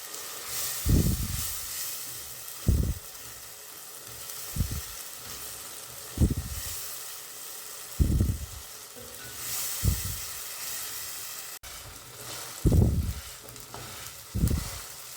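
Green tomato cooking with onion in a pan for hariyali pav bhaji, a continuous soft sizzle broken by about eight louder stirring scrapes spaced every second or two.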